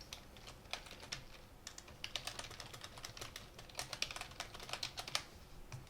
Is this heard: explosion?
no